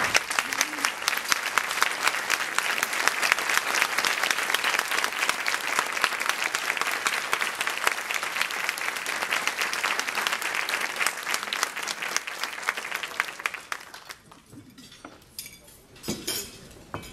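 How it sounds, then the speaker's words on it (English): Sustained applause from a banquet audience honoring a family standing at their table, a loud dense clapping wash for about fourteen seconds before it fades to a few scattered claps and faint room clatter. "ask Suzanne's family, her husband Vern, and Karen and Jessica and everyone at their table to stand and just receive a round of applause on Suzanne's behalf."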